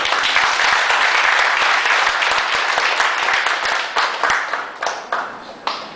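An audience claps to welcome a branch manager at a business seminar, dense applause at first that thins into scattered individual claps toward the end.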